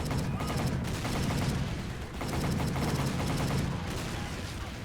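Sustained machine gun fire on a beach in the video game Battle for the Pacific, rapid rattling bursts layered with distant battle noise, loud and continuous with a brief dip midway.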